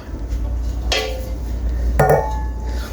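A hot metal pot lid on a pot of Jamaican red peas soup with chicken foot and vegetables clanks twice, a sharp ringing clink near the start and another about a second later, close up.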